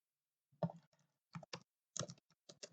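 Code is typed on a computer keyboard in a few short bursts of close, crisp key clicks with gaps between them, quiet overall.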